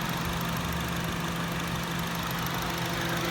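A 2013 Honda CR-V engine idles up close with a steady, even hum and a faint rhythmic knock, loud and continuous with no talk.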